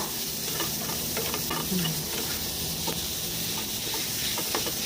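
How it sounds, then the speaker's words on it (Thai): Minced pork and carrot stir-fry in a pan, a constant hiss of sizzling oil with scattered scraping and tapping from the spatula throughout. "ลวนหมูให้สุกนะคะ แล้วก็ตามด้วยแครอทค่ะ ใส่แครอทลงไปดูผัดด้วยนะคะ"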